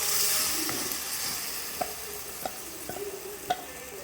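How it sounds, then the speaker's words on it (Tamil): Tomatoes salted and sautéing in a pan for an egg gravy, a soft steady sizzle with a few sharp stirring clicks of a spoon against the pan, close and fairly quiet, no talk. "தக்காளி கொஞ்சம் வதங்கிறதுக்கு உப்பு போடுறேன். வதங்குது."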